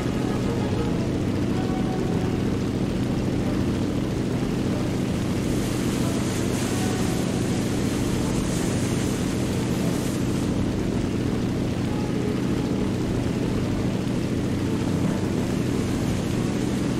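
Aircraft engine in the War Thunder video game during a carrier landing, a steady, loud, unbroken drone with broad rushing wind noise that holds at the same level throughout.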